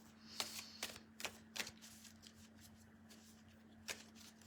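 A few quick, crisp riffles of cards being shuffled, in a rapid burst followed by a pause and one last flick, quiet and close.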